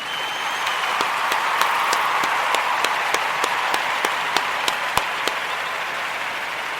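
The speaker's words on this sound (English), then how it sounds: "I want to give all of the Ujamaa babies a round of applause" A group applauds the Ujamaa birthday celebrants during a Kwanzaa gathering: a steady bed of clapping with sharp, evenly spaced louder claps punching through at a regular beat.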